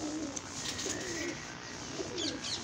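Golden pigeons coo softly in a breeding setup, low rolling calls repeating over faint background hiss, fairly quiet and with no one speaking.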